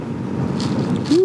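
Wind rushing past a rider on a Can-Am Ryker three-wheeler during a severe thunderstorm, a steady roar of wind noise buffeting the microphone, loud and close.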